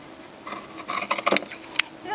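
Scissors snip through the fabric seam allowance of cropped pants being sewn, a few close, crisp metallic cuts in quick succession over a quiet room.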